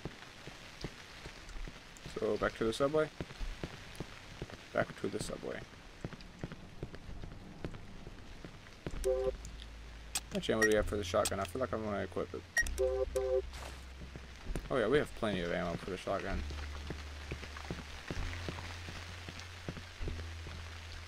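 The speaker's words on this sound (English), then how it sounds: "Nope, but it's raining." Steady rain patters throughout a scene in the horror video game Cry of Fear, a soft continuous hiss beneath someone talking, with occasional footsteps and low game tones rising over it.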